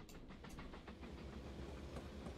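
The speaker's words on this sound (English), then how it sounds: "the train 49's making his way in" A train rolls slowly into a station in the railway game Mashinky, its wheels clacking in an even rhythm under a low rumble and hiss, quiet and continuous.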